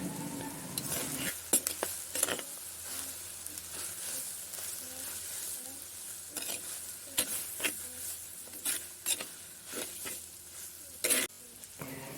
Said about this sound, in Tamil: எல்லாத்தையும் போட்டு நல்லா மிக்ஸ் பண்ணி எடுப்போம்